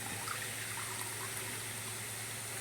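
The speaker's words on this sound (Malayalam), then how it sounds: "അതേ കപ്പിൽ തന്നെ 3 കപ്പ് തേങ്ങാപ്പാൽ ഒഴിച്ചു കൊടുക്കണം." Coconut milk pours steadily into a cup in a continuous, even stream, close by, with no talking.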